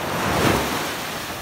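Surf washing onto the sand at Teluk Uber beach in Sungailiat, Bangka, a broad rushing swell that peaks briefly and then settles into a steady hiss, mixed with wind buffeting the microphone.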